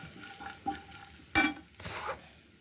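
Raw peanuts fry in a pan with a soft, steady sizzle while a spoon stirs them, scraping and knocking against the metal now and then at low volume.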